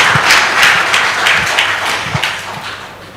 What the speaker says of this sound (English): And a third applause for Brenda.